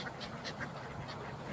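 Ducks quack softly a few times while being fed at a lakeside, faint and somewhat distant over low outdoor background noise.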